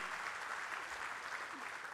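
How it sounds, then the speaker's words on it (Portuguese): Audience applause greets the president of Caixa Econômica Federal at the opening panel of a conference, a steady, dense wash of many hands clapping at once, fairly distant and unbroken throughout. "a quem eu peço uma salva de palmas"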